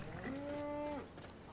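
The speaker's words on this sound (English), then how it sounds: "see, there's this cow right here." A cow in the video game Skyrim gives a single drawn-out, tonal moo lasting under a second, fairly faint against quiet ambient game sound.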